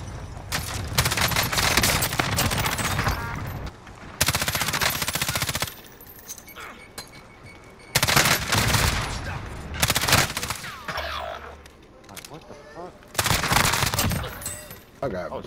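Shooter video game firefight with loud, rapid automatic gunfire in repeated long bursts separated by brief lulls, while players talk over the shooting.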